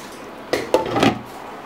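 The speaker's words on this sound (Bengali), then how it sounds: "বেশ কিছুক্ষণ কষিয়ে নেওয়ার পর ঢাকনাটাকে এখন আমি খুলে দিচ্ছি।" A pot lid being lifted off a pan of chickpea bhuna with potato: two quick close clinks followed by a brief scraping rattle, all within about a second, with no talking.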